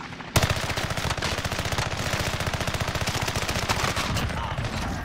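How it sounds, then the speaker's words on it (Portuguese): Rapid sustained automatic gunfire in a video game shootout, loud and close, kicks in abruptly after a brief lead-in and keeps up a steady, fast, regular rhythm of shots for several seconds. "Sob ataque! Estão atirando em mim!"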